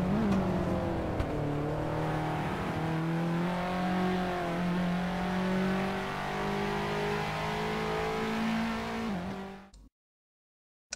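Renault Clio Cup race cars finish a race at Ledenon in the Assetto Corsa racing game, with one loud, steady engine drone shifting pitch for about ten seconds before cutting to silence.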